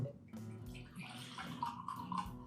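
Whiskey is poured neat into a thin-lipped glass with a solid base, making a soft, quiet liquid trickle and gurgle that rises slightly in pitch as the glass fills, with no talking.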